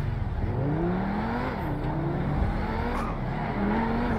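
An SSC Tuatara hypercar in GTA V revs and accelerates, its engine note climbing and dropping through gear changes, loud and close with a steady droning roar.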